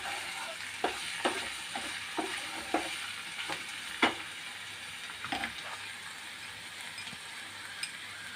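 Four large onions sautéing in a pan for Iran pola, a soft constant sizzle punctuated by a series of sharp spoon scrapes and taps at irregular intervals, close and moderately quiet.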